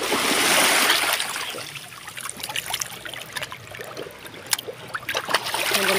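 Fresh fish of about three kilos, a talakitok, being washed in seawater by hand: splashing and trickling water with soft sloshes close by, loud at the start and end, alongside outdoor wind noise.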